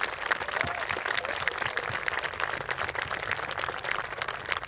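Moderately faint, continuous applause with scattered claps from a crowd at a 2022 high school graduation, heard from some distance as a steady wash.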